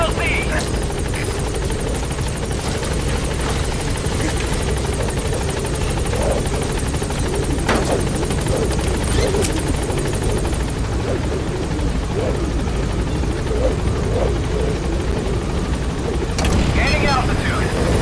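The Pequod helicopter in Metal Gear Solid V thrums loud and steady throughout, its rotor roar constant from start to finish.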